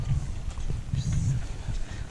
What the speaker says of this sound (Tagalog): kalabaw at saka kariton